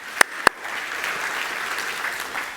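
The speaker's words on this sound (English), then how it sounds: "Go ahead and clap for that." A church congregation claps after hearing about a pastor's 15-year wedding anniversary. Two sharp loud claps open it, then a moderate, even patter of applause continues steadily for a couple of seconds.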